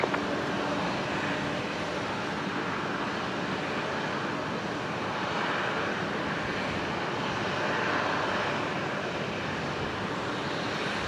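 A Qantas Boeing 737-800 jet arriving on runway 19 left at Brisbane Airport, a steady broad engine roar holding throughout with slight swells, distant to mid-range and alone.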